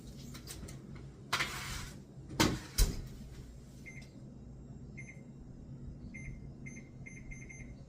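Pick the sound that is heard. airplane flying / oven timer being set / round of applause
oven timer being set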